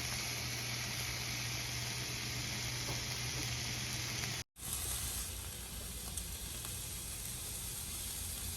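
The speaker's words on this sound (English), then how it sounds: "So we're still searing our lamb really good" Lamb sears in a hot pan with a steady, loud sizzle that runs unbroken apart from a brief cut midway, with no talking over it.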